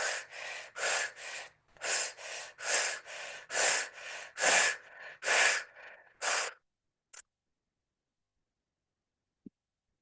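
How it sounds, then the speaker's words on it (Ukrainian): Forceful rhythmic breathing during an energy breathwork exercise: about a dozen loud, close, rapid breaths in a steady pulse, then stopping, followed by near silence with two brief faint sounds. "Не зупиняємося, дихаємо."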